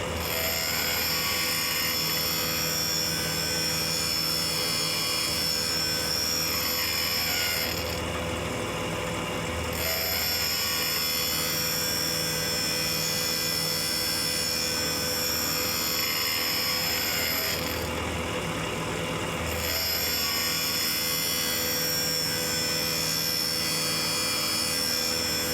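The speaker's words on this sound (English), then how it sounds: "these exhaust valves require a lot more cutting than the intake valves do" Valve seat cutting on the exhaust valves of a cylinder head from a Caterpillar 977H loader, a loud, continuous whirring grind close by with two short pauses that fall roughly twelve seconds apart.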